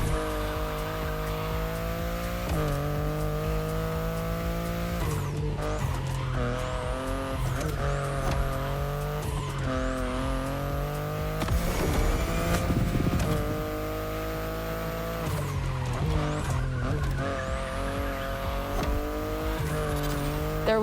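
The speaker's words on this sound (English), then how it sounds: "the sports car you're driving" BMW i8 hybrid sports car driven in The Crew Motorfest, its engine holding a steady loud drone with repeated gear-shift dips and revs, occasional tire squeal and skidding, and no talk.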